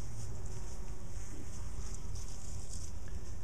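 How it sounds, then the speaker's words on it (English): Honeybees from a home hive, poisoned by pesticide, buzz in a dense steady drone as they beat their wings fast, close and continuous, with no voices. "They're flapping their wings extremely fast, and they're just writhing."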